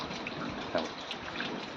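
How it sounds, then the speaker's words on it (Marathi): Floodwater pours steadily through a tin roofing sheet into a house during flooding, a continuous close splashing rush with no voices. "हे पहा हे इथं पाणी एवढं आहे बाबा हे ते पत्र्यातून डायरेक्ट पाणी घरात शिरायला"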